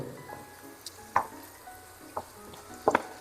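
Okra sizzling in hot tempering oil in a pan, a faint frying hiss beneath a few short, sharp crackles and spatters scattered across a few seconds, no talking.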